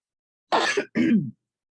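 Two short, close throat clears, the second rougher and lower, like a cough, then silence.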